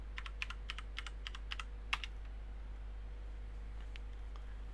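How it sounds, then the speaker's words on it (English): Quick run of keystrokes on a computer keyboard as a password is entered during an operating system install, a steady burst of close, light taps that stops, then a couple of isolated presses against a quiet background hum. "I'll tap in a password for the normal user,"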